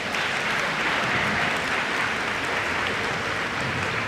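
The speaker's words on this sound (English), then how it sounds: "Another round of applause." An audience at a music workshop claps in a sustained, dense round of applause at an even, full level from start to finish.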